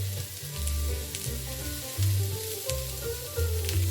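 Sausages sizzle loudly in a hot cast iron skillet at a cabin, a close, continuous crackling fry that swells in a few louder pulses.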